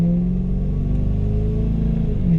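A Ford Crown Victoria with all four catalytic converters removed idles with a loud, deep, throbbing exhaust rumble, steady and close throughout with no talking.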